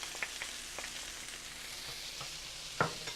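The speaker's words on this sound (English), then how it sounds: "To our pan, we're going to add our onion." Chopped onion hits a hot pan and sizzles softly and steadily, with a few light clicks and a sharper pop near the end.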